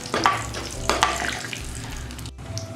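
Cloves, cardamom, a cut bay leaf and a piece of cinnamon fry in hot oil for a biryani, crackling in two sharp bursts near the start before settling into a softer, steady sizzle, close and without speech.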